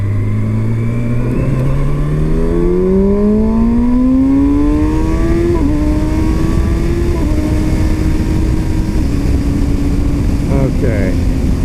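A 2019 Kawasaki Ninja ZX-6R motorcycle accelerating hard up a freeway on-ramp, engine note climbing steeply through several gear changes with brief shifts, then settling into a steady loud drone under wind noise.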